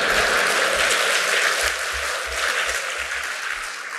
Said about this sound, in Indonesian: Tepuk tangannya kurang kuat.